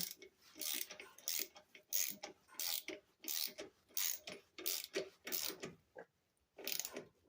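A ratchet socket wrench tightens a bolt on a 6.25 hp Yard Machines lawn mower, clicking in about a dozen quick bursts of ratcheting strokes separated by short pauses, close and clear.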